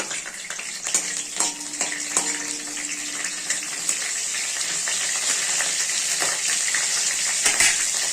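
Dried red chilies, cloves and cardamom fry in hot oil, a continuous hissing sizzle with scattered clicks and utensil knocks, close and fairly loud.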